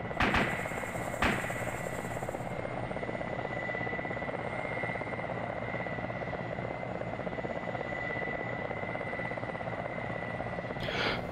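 A helicopter's rotor thrums steadily at a constant level, a continuous droning whine with a brief click near the start, heard during an outdoor airsoft game.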